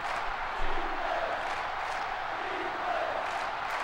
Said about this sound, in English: Crowd getting into it right now. Trying to get behind their team.